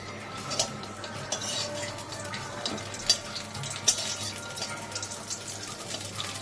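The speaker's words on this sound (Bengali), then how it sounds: "তেল গরম হয়ে গেছে। এবার মা ওতে তেজপাতা ফোড়ন দিয়ে দেবে।" Bay leaves tempered in hot oil give off a soft, steady sizzle, with light clinks of utensils against the pan close by. It is a quiet kitchen scene with no talking.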